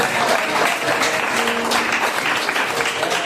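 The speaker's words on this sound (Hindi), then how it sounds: "क्या ये ताली बजाने का विषय नहीं है?" A church congregation applauds steadily, a dense wash of many hands clapping together, continuous and fairly loud with no speech over it.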